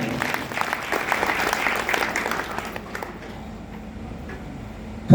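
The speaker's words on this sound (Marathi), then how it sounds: "महाराजांसाठी जोरदार टाळ्या झाल्या." Lecture audience clapping loudly for a speaker, a thick burst of applause that thins out and fades over a few seconds before a sudden loud sound at the end.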